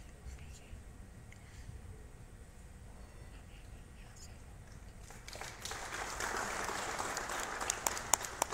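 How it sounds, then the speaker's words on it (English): At a live Common Yoga Protocol event at IIT Bombay, after a quiet, murmuring stretch, applause breaks out from a crowd and keeps building, dense and steady until the end. "A big round of applause for Jairam Meena."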